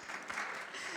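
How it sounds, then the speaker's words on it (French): A brief burst of audience clapping at a business conference, moderately loud and dense for a second. "on l'applaudit très fort."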